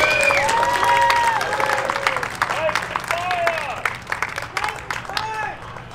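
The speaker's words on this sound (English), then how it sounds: "We'll give them a round of applause." A crowd applauding and cheering at a Star Wars Galaxy's Edge show, loose clapping that builds toward the end, mixed with whistles and warbling electronic tones, with voices heard throughout.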